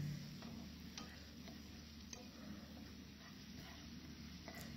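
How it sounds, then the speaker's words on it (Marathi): Tomatoes sautéing in a pan for a dry bombil, egg and potato curry, with a steady low sizzle and occasional scraping stir taps throughout, fairly quiet and without talk. "आता टोमॅटो देखील छान मऊ होईपर्यंत आपल्याला परतून घ्यायचं आहे"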